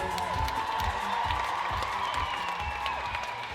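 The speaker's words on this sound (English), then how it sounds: "give them both a round of applause" An audience at a waacking dance battle applauds and cheers, steady dense clapping with whoops rising from the crowd throughout.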